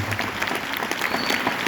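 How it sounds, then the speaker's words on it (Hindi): A dense burst of loud, close applause fills an AWPL mega show event hall, with many hands clapping continuously and evenly. "तो एक जोरदार तालियां होनी चाहिए एसलीपीएस वेलनेस के शानदार काम के लिए"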